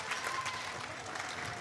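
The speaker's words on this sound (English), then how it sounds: "As the starters getting a little bit of applause here" A basketball crowd at a high school regional quarterfinal claps for the starters, steady moderate applause filling a gymnasium throughout.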